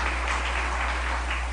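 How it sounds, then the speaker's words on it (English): A round of applause from the audience at a chamber of commerce gathering, dense and steady clapping throughout, fairly loud and close, with no voices over it. "Please give him a round of applause."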